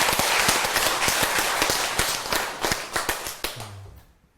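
An audience at a Buddhist dharma talk breaks into a dense round of clapping that holds steady, then thins into scattered, sharper claps before stopping, close and loud.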